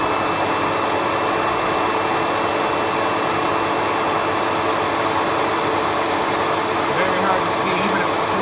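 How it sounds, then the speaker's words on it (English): A Windsor Sensor XP12 upright vacuum cleaner, the Sebo Automatic X4 equivalent, runs on carpet tile with a loud, steady broadband whoosh and a faint whine, continuing without pause. "I'll go ahead and turn the vacuum on to show you."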